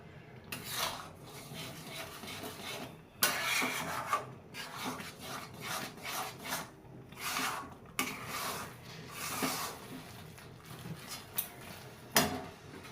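Rice flour is worked into cooked lentils for mug puli, a repeated rough scraping and rubbing of a utensil against a bowl in uneven strokes with brief pauses, close and fairly quiet.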